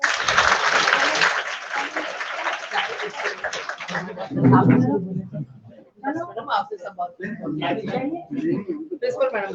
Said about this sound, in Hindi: इसके लिए जरा जुगरान जी के लिए जोरदार ताली बजाइएगा।